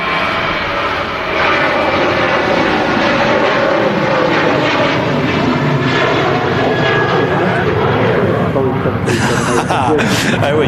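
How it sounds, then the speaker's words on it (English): A Ryanair airliner departs Manchester Airport, its engines making a loud, steady roar that fills the whole stretch and swells slightly near the end, with voices talking over it. "Just departing a Ryanair to Shannon."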